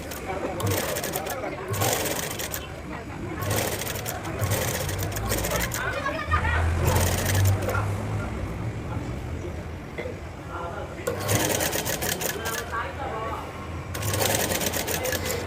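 A sewing machine stitches a plain blouse in repeated short bursts with pauses between them, close and clear, while someone talks over much of it.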